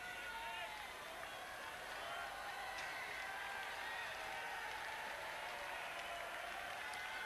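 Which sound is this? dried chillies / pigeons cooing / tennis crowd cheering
tennis crowd cheering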